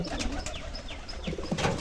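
Domestic pigeons coo softly in a loft with nesting birds, a few short cooing notes with light rustling, fairly close and quiet.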